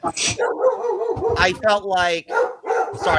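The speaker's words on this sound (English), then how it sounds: "that's my dog." A dog barks and whimpers in short yipping bursts close by, overlapping a person talking.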